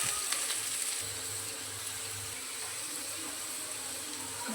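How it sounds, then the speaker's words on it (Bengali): Water poured into a pan of egg curry with ground cumin and garam masala, a soft steady splashing and trickling close by that continues evenly throughout, with a faint sizzle underneath. "গুঁড়ো মশলা দিলাম তাই একটু জল দিয়ে দেবো।"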